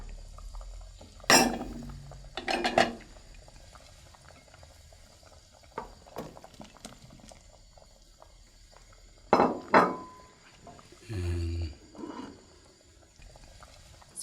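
Thai eggplant pieces dropped into a cooking pot, a few sharp splashy plops and clatters separated by quiet gaps over a low bubbling simmer.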